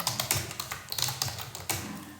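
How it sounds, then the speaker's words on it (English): Rapid, uneven keystrokes on a computer keyboard, close and fairly loud, with bursts of clicks and short pauses as text is typed into a drafting program. "Now you start typing the text."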